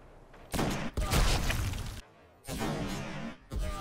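Sniper rifle shots in an online shooter game, heard as loud, close, broadband blasts with harsh rushing tails, several in a row separated by brief quiet gaps.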